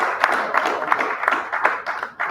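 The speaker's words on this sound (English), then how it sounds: "A round of applause, please." A round of applause at a gathering, brief and moderately loud, uneven clapping pulsing across a couple of seconds.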